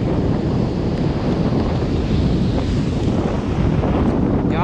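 Strong wind roars and buffets the microphone at sea, a loud unbroken rush over the surge of big waves, heard while sea fishing, with no one speaking.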